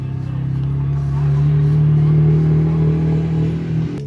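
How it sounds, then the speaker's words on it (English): ATVs riding past a campsite near the Florence, Oregon sand dunes, one engine droning steadily and swelling as it passes close by, with faint background noise. "That is the sound of ATVs going by our campsite."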